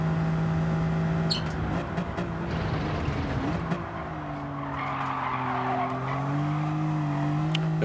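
Engine of a BMW Z4 in Gran Turismo 7 at Brands Hatch, braking hard into a corner: steady engine drone with sliding pitch as revs drop, light tire scrubbing, continuous and loud throughout.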